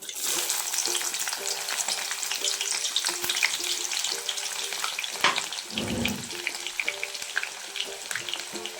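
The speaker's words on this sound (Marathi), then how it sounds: "तेल गरम झाल्यावर इथे जिरा मोहरी कांदा ऍड करून घेते" Cumin, mustard seeds and onion sizzle in hot oil for podi upma, a close, dense frying hiss with seed crackles, spoon stirs and a short clunk partway through.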